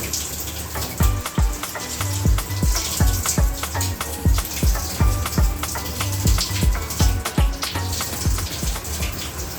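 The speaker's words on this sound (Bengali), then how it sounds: "এবার এগুলোকে আমি দুটো তিনটে করে করে ভালো করে সুন্দর করে ধুয়ে নিচ্ছি" Taro (kochu) greens being washed a few at a time under running water, with steady splashing and trickling plus repeated soft thumps and slaps of leaves in the water, close and continuous.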